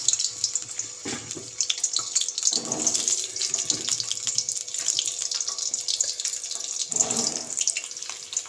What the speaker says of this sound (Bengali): তেল আমার গরম হয়ে গেছে, এবার আমি আলুগুলো দিয়ে দেব।